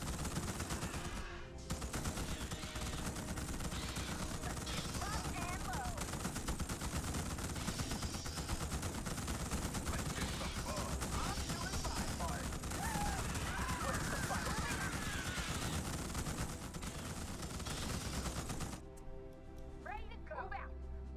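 Gunfire in the video game Starship Troopers: Terran Command, where troopers shoot at bugs in a steady, unbroken roar of automatic weapons. Voices call out under the shooting, and the barrage drops away near the end.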